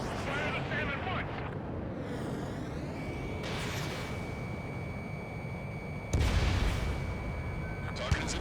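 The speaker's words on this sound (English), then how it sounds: "Fire the SAM at once." A surface-to-air missile launch in a combat video game mission: a broad roaring blast of fire with rumbling explosive noise, a sharp louder burst late on, and a steady synthetic tone running through the middle.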